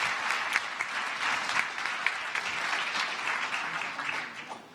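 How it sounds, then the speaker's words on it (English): A crowd claps for the startup Talentador at the Startup World Cup Finland 2018 pitch event, a full and steady round of applause that stays even throughout. "Give a round of applause for Talentador"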